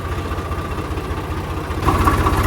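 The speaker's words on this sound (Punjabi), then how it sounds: "ਚੱਲੀ ਜਾਂਦੀ ਆ ਟਰੈਕਟਰ ਕੱਢ ਲੈ ਬਾਹਰ" A tractor engine runs at a steady, throbbing idle during puddling work in a wet field. The sound is close and continuous, and it grows slightly louder and harsher near the end.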